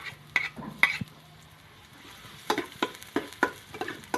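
Garlic frying in oil in a home kitchen, with a faint steady sizzle under sharp metal clinks and scrapes as a utensil stirs against the pan, clustered in short bursts.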